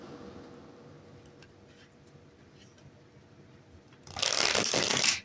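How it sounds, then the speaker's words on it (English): Tarot cards are shuffled loudly near the end in a dense burst of rapid riffling, after a quieter stretch of low room noise. "I've been shuffling the cards"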